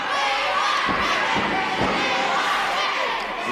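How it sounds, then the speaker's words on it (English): A wrestling crowd at an Australia–New Zealand professional match shouts and chants for a wrestler, with a dense, continuous roar and a few dull thuds from the ring. "The people in the crowd calling for Ricky."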